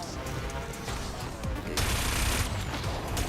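Missile weapons firing during a Wipeout Omega Collection anti-gravity race, a dense, continuous barrage of loud explosive blasts and crackling impacts that grows heavier partway through, mixed with racing game noise.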